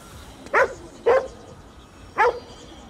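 A dog in the video game Ghostwire: Tokyo gives three short, clear barks, two close together and one after a pause, over a quiet background.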